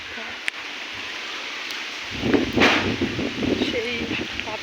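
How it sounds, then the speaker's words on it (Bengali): Strong storm wind gusting outdoors at Ghoraghat during a rainstorm, a steady rushing hiss that swells after a couple of seconds with rustling, while rain falls only lightly. "সেই বাতাস হচ্ছে"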